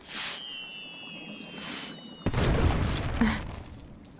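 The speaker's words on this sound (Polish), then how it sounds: "czyli mamy kolejne fajerwerki" A faint whistling launch, then a loud burst of crackling fireworks in the video game LEGO Harry Potter: Years 5-7, with sizzling pops continuing and slowly fading.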